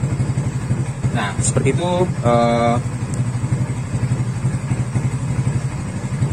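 A Honda Tiger motorcycle engine, little run for about two months, idles steadily with a low, even pulse close to the microphone, while someone talks briefly over it.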